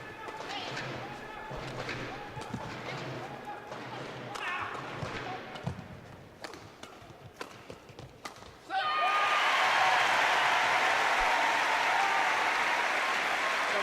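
A Commonwealth Games badminton crowd backing the home players: scattered claps, thumps and voices, then a sudden loud, sustained wave of cheering and applause fills the hall.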